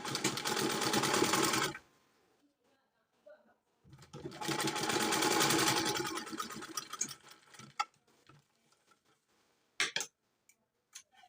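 Sewing machine stitching a trouser pocket in two fast, loud whirring runs separated by a pause, followed by scattered clicks and taps as the fabric is handled.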